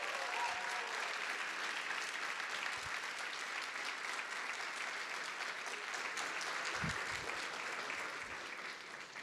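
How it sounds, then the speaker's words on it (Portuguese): Sustained applause from a large audience for the Hack Brasil team at a hackathon event, a dense, even roar of clapping heard from a distance, fading slightly at the close. "eu gostaria de pedir a vocês uma salva de palmas para todo o time da Hack Brasil"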